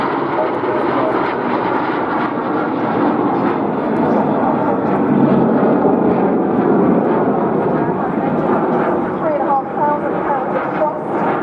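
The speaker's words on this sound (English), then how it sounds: "Sail up into the sky, turning to show us each side" Aircraft engine roar at an airshow in Clacton-on-Sea as a plane flies overhead, a broad, loud and steady drone holding throughout with crowd noise and voices mixed beneath.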